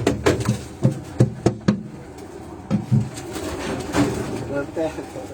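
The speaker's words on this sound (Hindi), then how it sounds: "ये उनके तमाम ये कबूतरों के जोड़े मैं आपको दिखा रहा हूँ।" Caged pigeons, kept as pairs, coo in soft rounded bursts close by, mixed with clattering knocks and someone talking over them.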